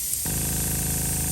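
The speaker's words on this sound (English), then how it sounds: "Since we're spraying inside of the car," A paint sprayer hisses steadily inside a car during work on a faded Porsche 944 dashboard, starting abruptly after a brief lower hiss and holding a loud, continuous spray with no talk.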